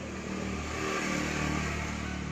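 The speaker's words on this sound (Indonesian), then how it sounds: "pas langsung digas RPM tinggi, bengok tok, ngok." A Yamaha NMAX scooter with an oil-soaked CVT and slick pulley is revved hard to high RPM, giving a loud, steady, droning engine roar that holds at full strain throughout without climbing freely.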